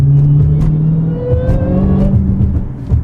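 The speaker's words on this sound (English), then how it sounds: "Man, that Corsa intake so freaking loud." A Dodge Challenger Hellcat with a Corsa intake accelerates hard, a loud close engine drone and intake whine climbing steadily from the cabin without talking.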